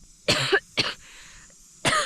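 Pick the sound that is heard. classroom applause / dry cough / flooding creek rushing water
dry cough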